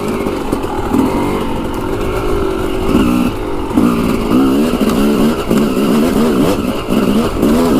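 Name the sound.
motorcycle riding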